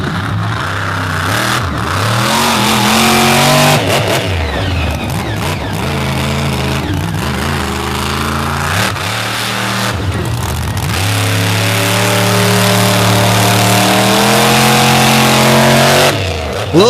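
Mud truck engine revving hard during swamp racing at a Naples monster truck show, a loud, sustained roar that rises and falls through gear changes with brief dips, close and continuous throughout.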